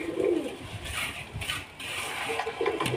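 Giribaj tumbler pigeons coo in a short, close series of soft low calls, with light rustling and mechanical clicking around them and no talk.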